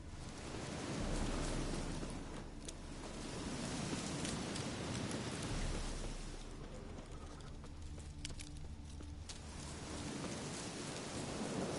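Continuous rain in The Witcher 3 video game falls with a dense hiss, a low rumble swelling and fading, and faint chirps poking through now and then.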